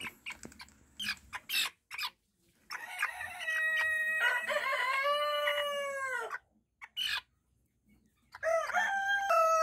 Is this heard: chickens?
yes